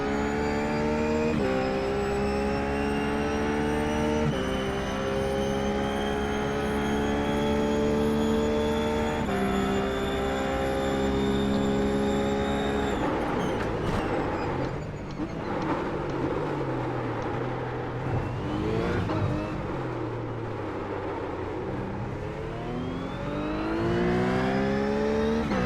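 Race car lapping the Nordschleife in a racing game, the engine climbing through gears in repeated rising sweeps with upshifts, then braking and revving back up, loud and continuous throughout.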